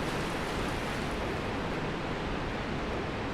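A waterfall in the video game Dark Souls Remastered gives a constant, dense rushing roar, broadband and steady from start to finish, with no talk.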